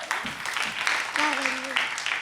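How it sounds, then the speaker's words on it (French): Audience applauding the competing groups at a semi-final, clapping in loose bursts mixed with voices and a brief sung or called tone rising over the noise. "On va encore applaudir pour les groupes en compétition pour cette demi-finale."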